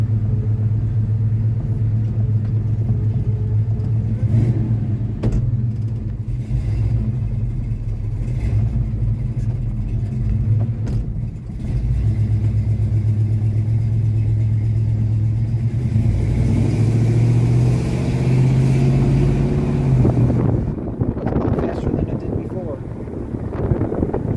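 A formerly stuck car engine, rebuilt with new piston rings, idles with a steady loud low rumble up close, its tone rising briefly toward the end before settling.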